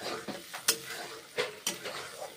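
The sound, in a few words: masala being sautéed in a pan for papaya egg curry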